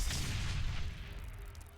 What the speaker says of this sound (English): Scrap grenade.